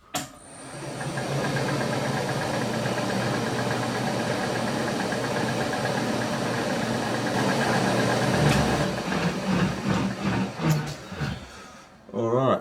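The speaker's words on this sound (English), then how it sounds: "set up the borer. And we'll bore these out to size" A powered lathe boring a crank arm to size gives a steady, loud mechanical rumble and hum that runs for about eight seconds, then turns uneven with knocks and clatter as it winds down. Some talk runs under it.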